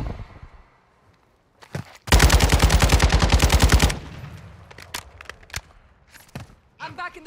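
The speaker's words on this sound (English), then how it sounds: "You are taking effective fire." Sustained close automatic gunfire in Call of Duty DMZ, a rapid burst of about two seconds with evenly spaced shots, framed by scattered single shots, footsteps and a radio voice.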